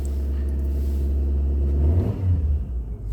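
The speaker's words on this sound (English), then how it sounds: "if I give it a little rev" A Nissan Sunny carburettor engine revs once in a short blip, rising from a deep idle rumble to a louder, rougher roar and then dropping back, heard close up with no talk.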